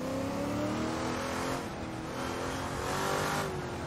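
A 1967 Can-Am race car in the Assetto Corsa racing game roars with a big engine at high revs, a loud, steady, close-up drone that rises and dips slightly as it shifts.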